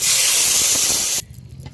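Water hits potatoes and eggplant frying in a hot pan and erupts into a loud, steamy sizzle that roars for about a second, then abruptly drops to a quiet simmer.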